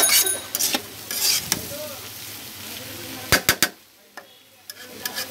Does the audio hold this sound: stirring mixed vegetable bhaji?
yes